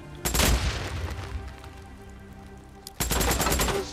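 Gunfire in the video game Days Gone, with two loud bursts of rapid automatic shots, one near the start and one near the end, and a quieter rumble between them.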